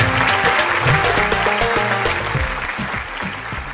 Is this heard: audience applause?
yes